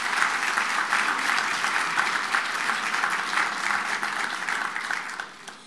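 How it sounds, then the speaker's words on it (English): Steady applause from a large audience at an evening foundation gala, dense clapping sustained for about five seconds before tapering off near the end. "Let's give ourselves a round of applause."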